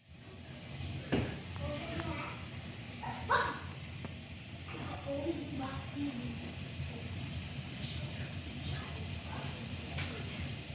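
Steady hissing of steam venting from a pressure canner while canning green beans, under a low rumble, with faint clinks and a few brief knocks, continuous throughout.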